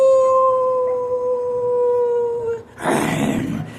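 A man imitates a howl while working out, holding a long, steady, wolf-like wail at close range before breaking off into a burst of rough, breathy shouting.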